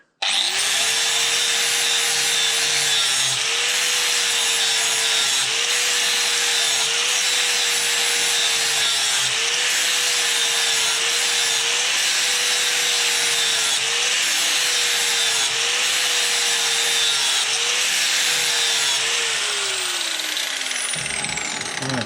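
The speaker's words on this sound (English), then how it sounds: "So I've sharpened the leading edge, as you can see." A steady, continuous grinding whine of a power tool sharpening the leading edge of a Stiga lawnmower blade, loud and close, running unbroken for about twenty seconds before winding down.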